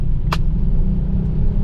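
Heavy EDSA traffic of cars and motorcycles: a steady, loud low rumble of engines close by, with a brief sharp hiss or passing burst early on.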